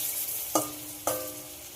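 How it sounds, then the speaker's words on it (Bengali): Food being shallow-fried in a pan with very little oil gives a low steady sizzle, broken by two sharp crackling bursts as pieces are turned or pressed, close and without any talking. "পিছন সাইডটা ঠিক একই রকমভাবে ভেজে নেব।"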